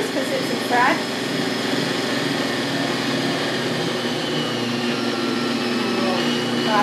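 A Bosch Universal Plus meat grinder with a pasta attachment extruding spaghetti gives off a steady motor whine and grinding hum, constant and close, with a brief voice near the start.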